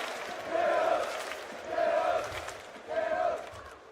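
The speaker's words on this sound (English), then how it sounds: "Crowd chanting for Chaos." A crowd at a Counter-Strike esports major arena chants in three rhythmic swells, each rising and then fading. The roar fills the hall at a moderate distance, with no clear talk over it.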